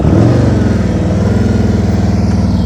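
A motorcycle engine holds a steady, loud, throbbing rev close by during slow-speed riding practice, its pulsing idle-to-mid throttle note continuous throughout.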